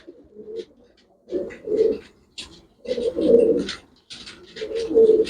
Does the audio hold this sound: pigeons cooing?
yes